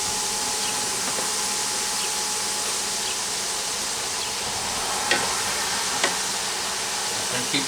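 Scratch-made potato slices deep fry in oil with a dense, steady sizzle, close and constant, with a few soft knocks as they are stirred.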